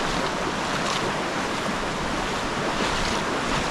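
A mountain stream rushes around a bend in a deep, high-walled canyon, a steady, full roar of flowing water with wind-like hiss, continuous and fairly close, with no voices.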